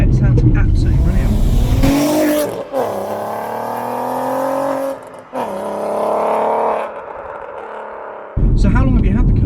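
Close, loud Mk4 VW Golf R32 engine revving, the pitch sweeping upward in long pulls with brief drops between, exhaust roaring before settling to a rumbling idle.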